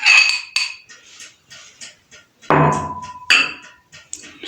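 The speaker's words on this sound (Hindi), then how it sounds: "सबसे पहले केले डालेंगे इसमें" Bananas dropped into a bowl of creamy fruit chaat, giving several close clinking and thudding knocks of fruit and utensil against the bowl, loud and irregular, with no talk.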